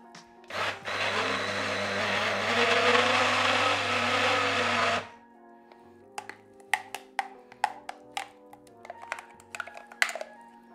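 A blender whirs loudly and steadily for about four and a half seconds, mixing warm mashed potato ingredients in a home kitchen. It then stops, leaving scattered light clicks and taps of utensils.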